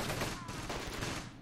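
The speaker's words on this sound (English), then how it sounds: "we can see some heavier howitzers being dropped down over here" Heavy howitzer artillery fire in the World War II strategy game Close Combat, set around Caen, pounding as a dense, continuous roar of overlapping blasts and crackling gunfire with no pause.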